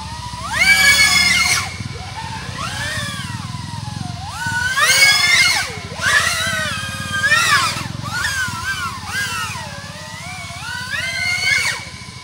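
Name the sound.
FPV cinewhoop quadcopter drone flying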